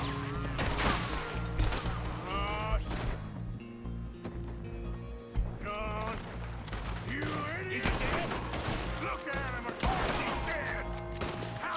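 Gunfire in a Red Dead Redemption 2 shootout in the town of Rhodes, with repeated sharp shots scattered through the clip among clattering game effects and talk.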